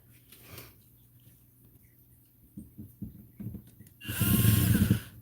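Power drill with a worn bit slipping on a screw, scattered light clicks and scrapes followed by a loud, close burst of whirring, grinding drill noise near the end.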